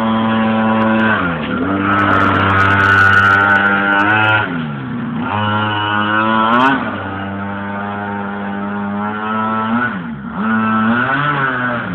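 A moped engine revs hard and steadily, its buzzing whine rising and falling in long sustained swells with brief dips between them, loud and close, and nobody talks over it.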